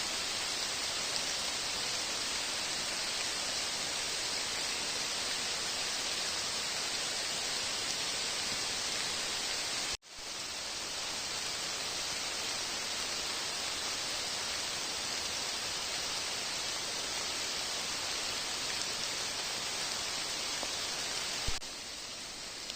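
Steady rain pouring down in a Carpathian forest in April, a continuous dense hiss that runs unbroken and fairly close, with one brief dropout partway through and no voices.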